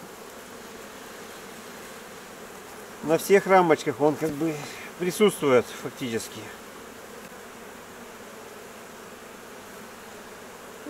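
A honey bee swarm is being moved from a trap into a hive, with frames of brood being handled, and the bees give a steady, dense buzz throughout while someone talks briefly in the middle.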